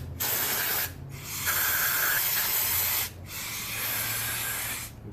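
Brake cleaner sprayed from an aerosol can into a sludged-up brake part, in three long, close hissing bursts with brief pauses between them and no speech.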